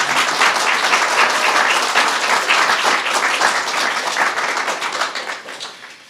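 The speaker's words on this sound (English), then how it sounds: "You may applaud." An audience at a swearing-in ceremony for the Secretary of Veterans Affairs breaks into loud, sustained applause, dense clapping from many hands that holds steady and then tapers off at the end.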